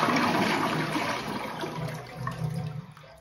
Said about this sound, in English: So we want to flush this and hold the handle down